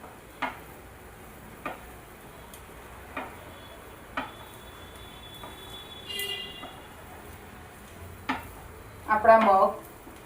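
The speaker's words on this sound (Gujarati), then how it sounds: "હવે આની અંદર આપણે થોડું તેલ નાખીશું અને મગને પણ 2 થી 3 મિનિટ સુધી આપણે સોતે કરીશું" Sprouted moong beans sautéed in oil in a pan give a faint, steady sizzle punctuated by regular soft clicks of stirring, with a brief louder scrape near the end.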